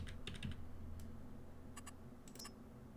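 Computer keyboard keys tapped in a few quick bursts, light close clicks with short pauses between presses, no talking.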